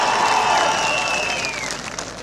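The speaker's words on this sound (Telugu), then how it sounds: "గట్టిగా చప్పట్లు కూడా చెప్పండి" Crowd applause at a TDP political rally in Kuppam, a broad wash of clapping and cheering that fades slightly toward the end, with a faint whistle-like tone running through it.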